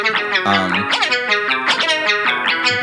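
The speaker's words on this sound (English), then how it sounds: "So, hyper pop rap." A hyperpop rap song: heavily processed, pitch-shifted vocals over a bright, dense electronic backing, loud and close throughout.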